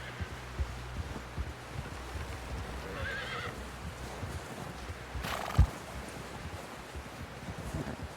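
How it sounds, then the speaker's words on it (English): In the video game Red Dead Redemption 2, a horse whinnies once midway through, with soft hoof clops and rustling ambience around it; no one speaks. "Someone help John down off this horse"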